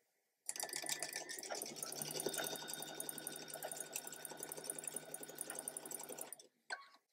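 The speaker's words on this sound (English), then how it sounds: "So let's sew this side together first." A sewing machine stitches cotton quilt pieces together for a churn dash block, running steadily and close up for about six seconds before stopping, with a brief mechanical click near the end.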